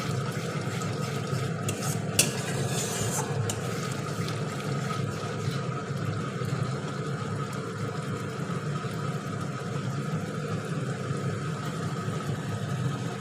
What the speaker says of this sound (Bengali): এই দিয়ে এখন মশলাটাকে কষিয়ে নিচ্ছি।